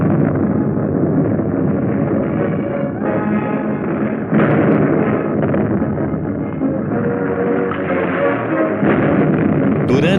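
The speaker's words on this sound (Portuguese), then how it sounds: "As armas enormes submeteram a cidade a um bombardeio de terrível fúria" Artillery pounds Warsaw in a furious bombardment of its crowded residential districts, a dense, continuous roar of blasts and rumbling fire that stays loud and steady throughout, with no voices.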